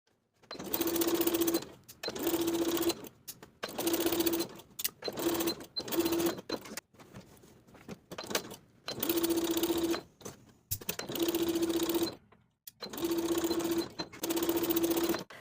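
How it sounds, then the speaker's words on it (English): Domestic sewing machine stitching in the ditch along seams of linen shorts, running in a series of loud, steady motorized bursts separated by brief pauses, close and alone without talk. "Now we're ready to stitch in the ditch for those 3 vertical seams"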